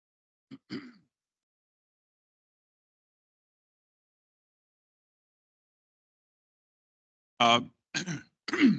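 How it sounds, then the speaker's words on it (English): A short throat clearing, then after a long silence a few harsh coughing bursts close to the microphone. "I'm trying to get rid of this cough."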